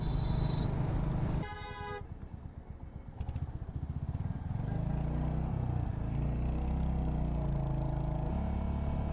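Vehicle horns honk in a roadside traffic jam, with a loud stacked blast up front and more toots after it, all over the steady rumble of engines and motorcycles.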